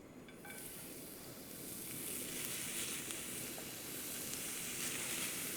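Carrots cooking in a hot pan on a stovetop, a steady close sizzle and hiss that begins abruptly and keeps frying evenly for several seconds with faint crackles.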